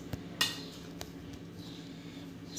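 A spoon scrapes and clinks against a bowl while chaat stuffing is stirred together with coriander powder and salt, giving a few sparse, fairly quiet knocks and one sharper clink over a hushed kitchen background.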